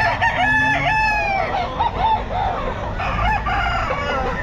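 Roosters crow and chickens cluck among crowded fowl at the Bocaue pet market, with several drawn-out crows overlapping close by against a constant background of market bustle.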